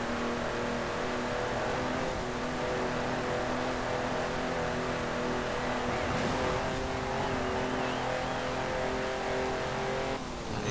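A sports car's engine revs hard as it is floored out of corners, a loud, continuous, near acceleration roar with no talking.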